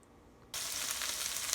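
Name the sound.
vegetables frying in olive oil in a hot pan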